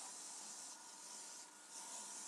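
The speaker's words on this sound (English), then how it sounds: "I'm going to use my hairspray." Hairspray gives a soft, continuous aerosol hiss in a few sustained bursts with brief dips between, quiet and close.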